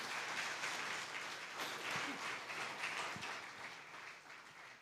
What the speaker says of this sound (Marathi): एकदा जोरात टाळी वाजव